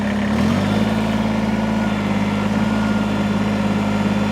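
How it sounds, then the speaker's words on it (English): A small diesel engine of a Kubota BX2380 compact tractor starts and settles into a steady, loud idle, a low rumble that runs unbroken to the end. "if I start my tractor up here"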